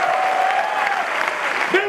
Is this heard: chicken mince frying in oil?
no